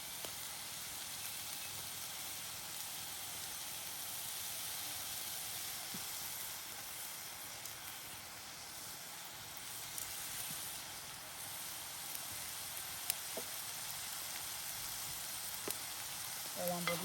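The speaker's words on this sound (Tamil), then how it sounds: "தக்காளி பழத்தை போட்டு நல்லா வதக்கி நல்லா வதங்கட்டும்." Tomatoes sautéing in a pan with salt and turmeric for a spicy crab rasam, cooked outdoors by a field: a steady, soft, even sizzle that continues throughout, with a few faint scrapes near the end.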